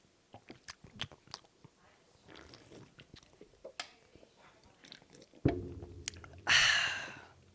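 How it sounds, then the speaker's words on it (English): Dark Sierra Nevada beer is taken in a loud, wet slurping sip near the end, after a stretch of small clicks, mouth noises and breaths. "Can I take a sip, a loud sip, and then you take a loud sip"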